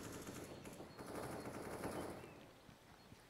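Rapid automatic gunfire in CS:GO rattles in a fast, continuous burst, dense and fairly close, tapering off near the end with one sharp shot at the finish.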